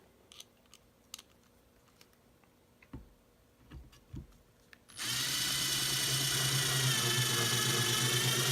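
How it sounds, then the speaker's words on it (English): A power drill drives a long screw through wood and craft foam into a shop table, preceded by faint clicks and handling taps, then a loud, close, continuous whirr of the motor running steadily. "I'm going to take some longer screws that will go through the wood the foam and into my shop table"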